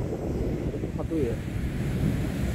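Sea waves wash against the rocky coast at Chaeseokgang on the Byeonsan Peninsula as a steady rushing roar, heavily mixed with wind noise on the microphone.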